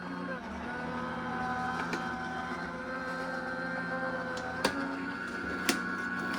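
An electric embossing machine feeds a thank-you card through an embossing folder with a steady mechanical hum, and two sharp clicks come near the end.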